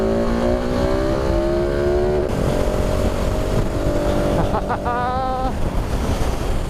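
A 2019 KTM 690 SMC R supermoto on Bridgestone S21 tyres with a quick shifter revs steadily while riding, engine tone climbing then dropping and shifting with quick blips, heavily buried under constant loud wind roar.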